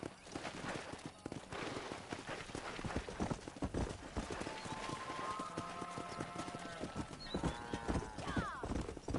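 Horse hooves clip-clop in a quick, continuous rhythm in the video game Red Dead Redemption, with a horse whinnying midway and distant voices mixed in.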